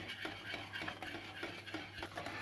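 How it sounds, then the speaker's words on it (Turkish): A spoon stirring sauce in a pot as butter melts into it, a quiet steady swirl of soft scrapes and faint taps repeating in an even rhythm with no talking. "tereyağımız eriyene kadar karıştırdım sosumu"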